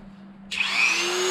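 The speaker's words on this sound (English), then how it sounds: "we are going to have to Dremel the threads off of that" A Dremel rotary tool spins up abruptly into a high, steady whine as it cuts threads off a part, close and alone after a quiet start.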